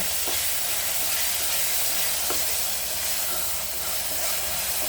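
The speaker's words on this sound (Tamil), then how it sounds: "லேசாக தக்காளி வதங்கட்டும்" Tomatoes sautéing in a pan for Kongu-style arisi paruppu sadam, a dense, continuous hiss of frying close up with a couple of faint stirring clicks and no speech.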